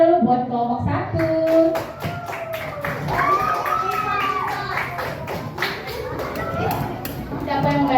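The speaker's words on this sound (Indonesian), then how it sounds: "Kita tepuk tangan dulu buat kelompok 1." A Grade 5 classroom of children claps for group 1, with quick rhythmic hand claps and taps mixed with lively children's voices and chatter throughout.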